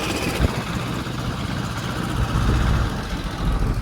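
A tractor engine runs close by at a steady idle on a village outing in Gujarat, a continuous low rumble with no talk.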